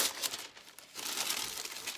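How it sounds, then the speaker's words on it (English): A foil sticker is peeled off the top of a Savage Fenty box, giving a short, quiet crinkling and tearing rustle up close, with a brief pause in the middle. "we're just going to undo this foil sticker on the top"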